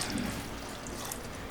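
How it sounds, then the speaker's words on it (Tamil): Water, 750 ml of it, is poured into biryani masala in a pot for a wedding-style biryani, a continuous rushing splash that holds steady and close for the whole moment, with no talking. "இப்போது இந்த 750 ml தண்ணியை உள்ளே சேர்த்திக்கிறேன்."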